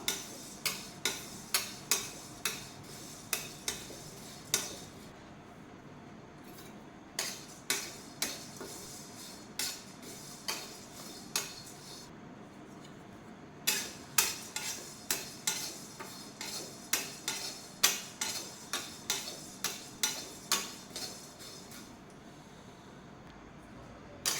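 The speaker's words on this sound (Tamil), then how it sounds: "அதுக்கு 2 கப் அவுளை நல்லா வறுத்துக்கணும்." Flattened rice (poha) being dry roasted in a pan, with a long run of light, regular scraping and ticking taps from a spatula, quiet and close, pausing briefly a couple of times.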